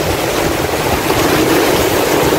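Waves at Pelangi Cemara Indah beach in Aceh wash in a continuous roaring surf, mixed with wind buffeting the microphone. It is loud and close, with no voices.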